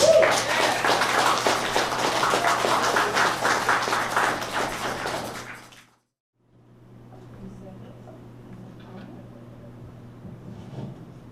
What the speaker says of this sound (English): I want another round of applause for him.